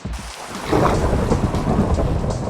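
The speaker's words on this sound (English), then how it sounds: "Oh, or it can change to a thunderstorm and solve my problem." Minecraft thunderstorm: a loud rolling rumble of thunder over steady, dense rain hissing on surfaces, continuous and close with no talk.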